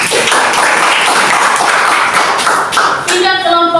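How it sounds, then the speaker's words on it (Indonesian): Audience applause for a student group in a classroom, a loud burst of many hands clapping close by, dense and sustained for a few seconds before thinning as a tonal sound enters at the end. "Kita beri aplaus untuk kelompok ini"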